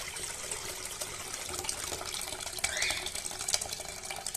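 Water is poured into a bowl of soaked urad dal, a steady close gushing splash that runs without a break, with a brief brighter swirl partway through and no voices.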